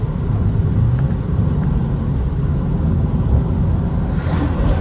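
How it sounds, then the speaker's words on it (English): Deep, steady exhaust drone from a tuned BMW 335i on a stage 2 tune, a loud low rumble heard from inside the car while cruising, with no talk over it. "Let's see if we can get some exhaust sound."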